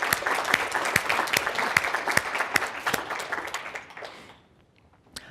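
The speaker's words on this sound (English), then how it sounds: "Let's join our hands together in a big hand of applause for those people that came to share their stories." An audience at a community investment co-op talk gives a warm round of applause, with some sharp individual claps standing out. It fades away after about four seconds, and one last clap follows near the end.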